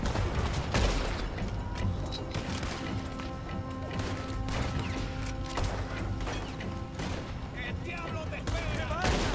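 Gunfire rings out in Red Dead Redemption 2, with sharp shots cracking at close range over a dense, busy mix of game sounds and voices talking throughout.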